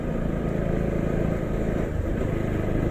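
Motorcycle ridden on a hill road from Charikot to the Dolakha Bhimeshwor temple in Nepal, a steady close engine drone with wind rush and no speech.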